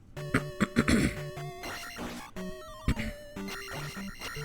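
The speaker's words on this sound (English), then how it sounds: "Sorry for clearing my throat." A few short throaty coughs and clearing sounds up close from a person recovering from illness, over busy Zelda II Redux game music with bleeps and melodic tones.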